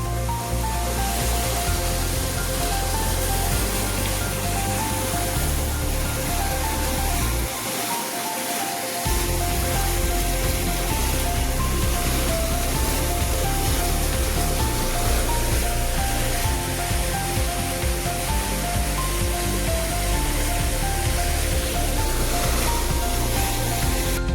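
Full stream of water rushing steadily along a small village canal, a loud continuous broadband roar that dips briefly in the low end for a moment before resuming, with no voices.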